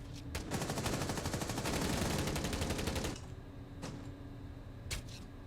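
Video game gunfire crackles in a dense, rapid crossfire burst lasting about three seconds, followed by a couple of sharp isolated shots over a quieter background.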